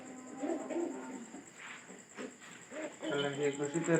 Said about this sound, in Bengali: পায়রা ঢুকছে, কিন্তু পায়রাটা আমি ঢুকাই দিছি